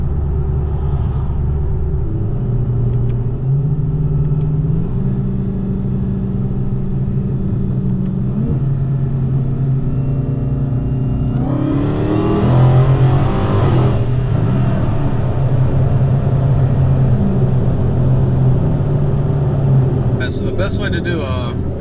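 Dodge Hellcat engine rumbling and accelerating from inside the car, a loud low drone that rises in pitch through several gear changes, with a brief rougher surge in the middle and a voice talking over it.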